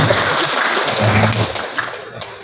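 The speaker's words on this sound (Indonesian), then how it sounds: "Kita berikan aplaus kepada kita semua." An audience at a school literacy talk claps in a short, dense burst of applause that holds steady and then tapers off, fairly loud and close, with no voices over it.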